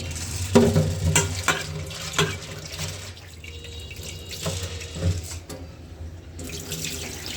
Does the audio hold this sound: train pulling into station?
no